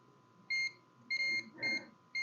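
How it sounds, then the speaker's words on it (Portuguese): Short electronic beeps from a multimeter continuity test on a mobile phone circuit board, sounding in several brief bursts of varying length over a faint steady hum. "Isso aqui tá bipando também."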